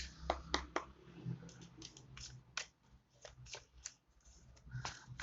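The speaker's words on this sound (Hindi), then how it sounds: "I'll take this card" Cards are shuffled and handled, giving a quick run of crisp snaps and flicks, then a scattering of light, close clicks against a quiet background.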